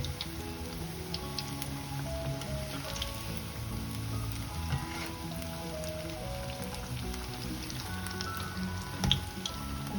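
Mixed vegetable and tofu fritters frying in hot oil, a steady close crackling sizzle with dense popping bubbles running continuously without talk.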